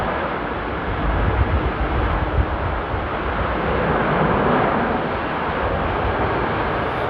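A loud airliner roars steadily at Amsterdam airport during a storm, its broad rumbling engine noise filling the whole stretch with mild gusty swells and no pauses.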